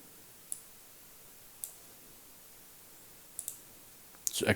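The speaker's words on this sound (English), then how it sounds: "Refresh, click, click, click." Four crisp computer mouse clicks at a steady interval, with a louder burst of clicking right at the end, recorded close over faint background hiss with no talking.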